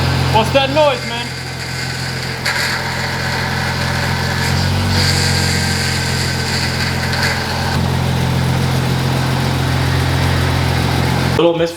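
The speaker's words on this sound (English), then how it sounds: "Little misfire with the idle." An Audi S4 engine idles steadily with a slight misfire, a continuous low hum holding throughout with a brief clatter near the start; close and fairly loud.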